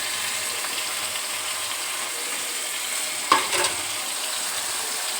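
Chicken mandi masala frying in a pan, a steady close sizzle throughout with a brief louder crackle and stir near the middle.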